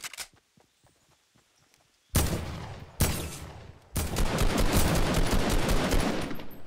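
AR assault rifle fire in Fortnite, loud sustained automatic bursts that start abruptly after quieter footsteps, first two short volleys then a long continuous stream of shots.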